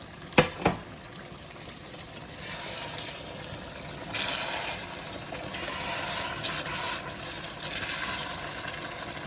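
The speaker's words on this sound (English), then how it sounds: "I'm going to put a little bit of this water from my sauce in there." Two quick clinks, then water pours and gurgles into a pot of sauce in uneven surges, fairly quiet and close.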